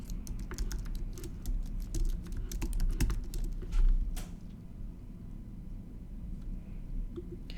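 Someone types a username and password on a computer keyboard, producing quick, close clicking keystrokes in an irregular burst for about four seconds before it settles into quiet room noise.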